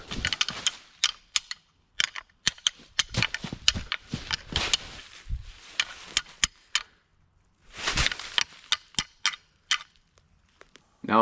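Rattling antlers clacked together during a public-land deer hunt in the evening, giving sharp irregular clicks and knocks in uneven clusters, some close and loud, others lighter.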